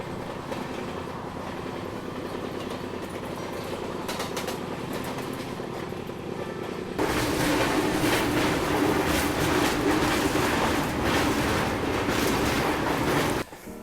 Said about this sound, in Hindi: कोई तो ट्रेन आ रही है वो, पर मैं ट्रैक नहीं कर पाया। शायद से ये कोई पैसेंजर ट्रेन है।